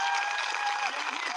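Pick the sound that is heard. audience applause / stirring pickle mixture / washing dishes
audience applause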